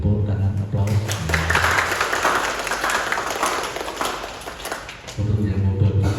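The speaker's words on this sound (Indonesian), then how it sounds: "Kita beri tepuk tangan aplaus." An audience applauds at a hospital Christmas Mass celebration, a dense wash of clapping filling the room for several seconds between stretches of amplified talk at the start and end.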